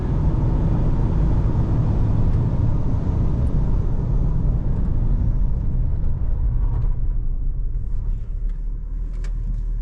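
A 2024 Volkswagen Amarok TDI600 V6 diesel pickup accelerates hard on a wet surface with its wheels spinning. A loud, continuous engine roar runs throughout, and the rumble eases slightly toward the end.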